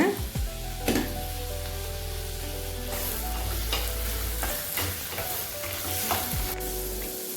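Tomatoes sautéing in a pan for a tangy Tamil curry, with a steady sizzle and repeated knocks and scrapes of a stirring spoon, close up with no one talking.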